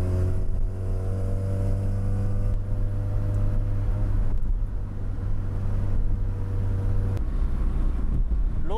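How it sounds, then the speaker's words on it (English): Rotary-engine car driving along a street, a steady droning engine note with rising harmonics as it accelerates, close and loud, with some wind rumble and no talk. "The rotary engine is nice. It's got its own flavor."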